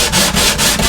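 The wooden top of a cigar box guitar is sanded by hand, giving close, loud rhythmic rubbing strokes, about four back-and-forth passes in quick succession, with no voices.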